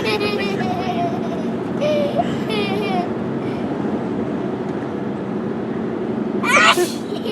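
A girl tries to make herself sneeze. Quiet voices and fidgeting come first, and a single loud, sharp sneeze bursts out near the end over a steady background hum.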